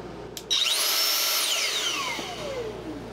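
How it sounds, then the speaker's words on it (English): A Dyson Airblade AB-14 hand dryer motor, taken apart for repair, starts with a click and then spins up into a rising, piercing high-pitched whine, then winds down as it slows, close and alone. "The last thing I want to look at before reassembling this is how the motor starts up."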